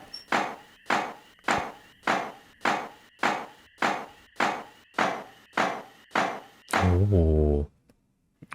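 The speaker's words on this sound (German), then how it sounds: "Da wird kräftig gewerkelt. Da wird richtig gehämmert." Steady hammering in the Stardew Valley farming game: about a dozen evenly spaced, loud wooden knocks in a regular rhythm, ending in a short rising chime-like flourish before the sound cuts to near silence.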